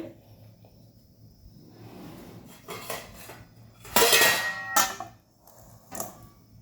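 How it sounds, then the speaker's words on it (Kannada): A plate is set over a pot of bele soppu kadabu, a one-pot dish, with scattered metallic clatter and scraping that builds to a loud clanging rattle, then a final lighter clink. "ಇವಾಗ ಒಂದು 10 ಮಿನಿಟ್ಸ್ ನಾನು ಒಂದು ಪ್ಲೇಟ್ ಮುಚ್ಚಿ ಇಡ್ತೇನೆ"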